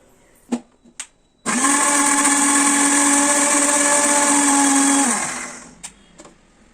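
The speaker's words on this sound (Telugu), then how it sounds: "ఇప్పుడు ఇవన్నీ మనం మంచిగా మిక్సీ పట్టుకోవాలి." A mixer grinder whirs at full power for about four seconds, blending coriander and green chillies with a steady high-pitched motor whine that winds down at the end, framed by a few clicks and knocks of the jar.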